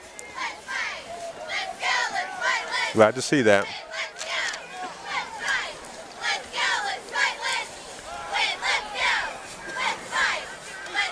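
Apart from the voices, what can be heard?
crowd cheering at a high school football game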